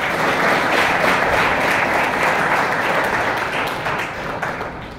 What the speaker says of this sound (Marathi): जोरदार टाळ्या वाजवून अभिनंदन करूया